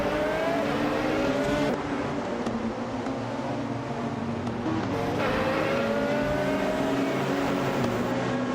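A field of race cars, led from pole by a 2016 Audi R18 LMP1, roars off at the start on the Charlotte Road Course with no chicane. Engines rev and climb in pitch, with a steady loud drone and no talk.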